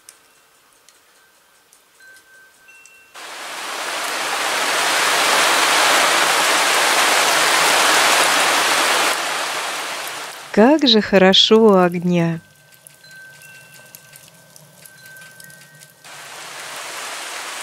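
Heavy rain pours steadily and loudly for several seconds near a countryside dacha with a wood stove, then stops abruptly as someone speaks briefly; softer rain patter returns afterwards.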